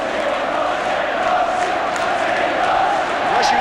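A packed football stadium roars and cheers after a Liverpool goal in a Liverpool v Everton derby: a loud, sustained wall of crowd noise that swells slightly toward the end.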